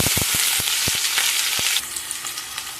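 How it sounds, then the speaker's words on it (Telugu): Mustard seeds and fenugreek fry in hot oil with a bright, steady sizzle. A quick run of sharp pops and crackles comes early, then the sizzle softens a little toward the end. "ఇప్పుడైతే కొంచెం ఆవాలు, కొద్దిగా అయితే మెంతులు, ఇవి కొంచెం రోస్ట్ అయ్యాకైతే ఆనియన్స్, పచ్చిమిర్చి యాడ్ చేద్దాం"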